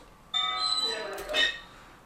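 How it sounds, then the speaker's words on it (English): A bell rings in a clip being edited, one bright metallic strike with a shimmering ringing decay lasting over a second, fairly close and clear. "I just want them ringing the bell."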